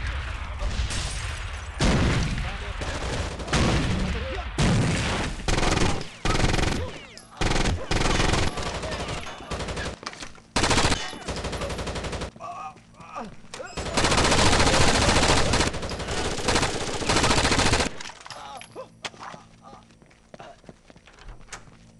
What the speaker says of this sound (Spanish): Disparando a la pared